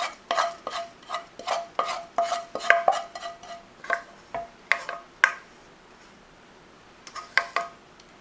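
Kale and quinoa salad tossed in a bowl, a steady run of close scraping and clinking strokes of utensils against the dish in short rhythmic bursts, then a pause and a few more strokes.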